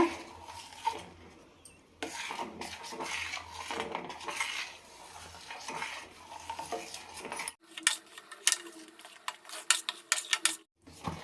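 Morkali, a sour buttermilk and rice flour dish, stirred in a cooking pan on low heat, with repeated metal spoon scrapes and clinks against the pan, close and irregular, pausing briefly, then resuming more sharply.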